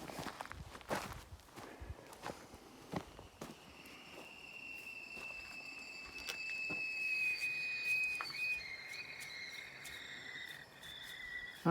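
A thin, steady high-pitched hiss of compressed air leaking from the air brake system of a 1963 Volvo BM rises midway and holds, under footsteps and shuffling close by, with no talking.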